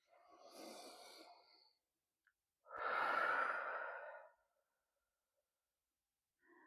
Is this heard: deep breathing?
yes